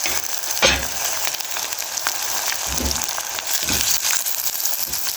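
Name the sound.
carrot and tomato sizzling in a pot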